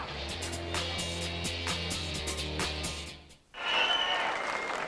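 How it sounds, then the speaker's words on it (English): Tennis crowd at the 2001 Los Angeles Masters match between Agassi and Kuerten bursts into sustained applause, dense clapping filling the space before a brief dip and a fresh, louder surge of cheering and claps. "A big hand for both players as they crossed over."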